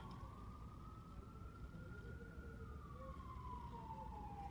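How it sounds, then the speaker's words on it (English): An emergency vehicle siren wails steadily outside a car, a single sustained tone gliding slowly up and then down, heard at moderate distance over constant low road rumble. "See, got some sirens."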